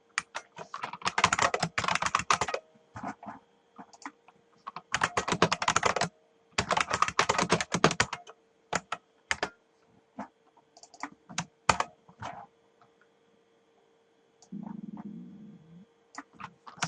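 Bursts of fast typing on a computer keyboard, close and crisp, with pauses between runs of keystrokes and scattered single key taps, no talking.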